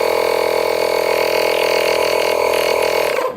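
A HEIMERDINGER portable battery-powered air pump runs loud and steady at close range, a constant buzzing whine with no breaks before it cuts off at the very end.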